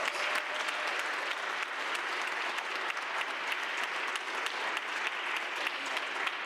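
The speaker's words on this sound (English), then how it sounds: "Let's give that a round of applause." Steady, dense applause from the audience at the City of Cleveland Council swearing-in ceremony, moderately distant and sustained throughout without a break.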